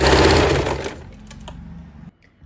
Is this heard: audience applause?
no